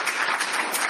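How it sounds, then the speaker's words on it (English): Audience at a conference clapping steadily, a dense patter of many hands at a fairly loud, even level throughout. "I think we can applaud to our guests."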